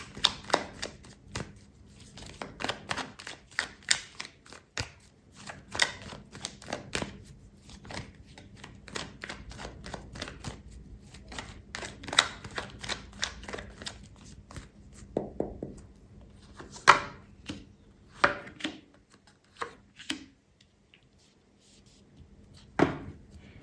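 Tarot cards being shuffled by hand, with a steady run of rapid papery riffles and flicks close up, pausing briefly and resuming, heard alone without talk.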